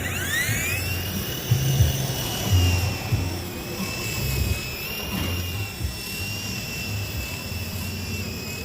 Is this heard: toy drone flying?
yes